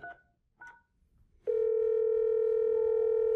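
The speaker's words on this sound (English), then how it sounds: "We're going to turn on the speaker and dial an extension" Two short keypad tones sound first, then a steady, loud dial tone holds through the rest of the clip over a Grandstream GXP1625 IP phone's speakerphone.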